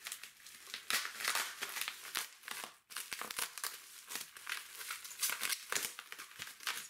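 A cosmetics package being unwrapped, close, continuous crinkling and crumpling of plastic wrapping with occasional tearing, in rapid irregular bursts, with no talk.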